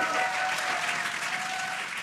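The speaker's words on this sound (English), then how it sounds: "You can hear the crowd here." A crowd watching the SpaceX Crew-9 Dragon Freedom capsule descend under its drogue parachutes cheers and applauds in a steady, fairly distant wash of clapping and excited voices.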